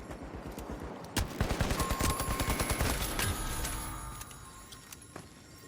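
Rapid bursts of automatic AK rifle fire in the video game The Finals, loud and close, with a dense run of sharp shots followed by scattered single reports.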